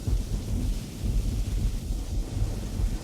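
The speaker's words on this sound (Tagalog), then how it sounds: "Kulog lang iyan, matulog ka na." Thunder rolls through a storm as a continuous low rumble, fairly loud and steady with swelling surges, blended with wind-like noise and no voices.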